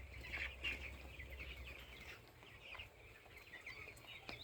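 Twelve-day-old broiler chicks on a poultry farm chirp and cheep steadily at a moderate distance. The calls are continuous and overlap over a low background hum, with no voices.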